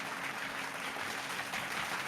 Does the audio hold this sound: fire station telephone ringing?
no